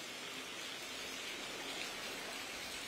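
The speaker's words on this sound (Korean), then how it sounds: "현재는 제법 많은 비가 내리고 있습니다" Heavy monsoon rain pours steadily outdoors beside a flood-prone stream in Busan, a dense, even hiss of falling water with no breaks or voices.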